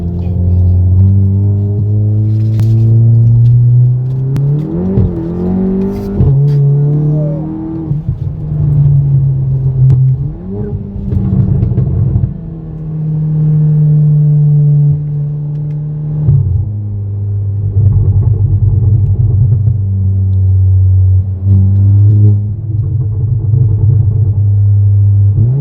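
Renault Clio 4 RS turbo engine with bi-injection active idles loudly and revs up several times, steady engine tone rising and falling close to the microphone, with brief voices underneath.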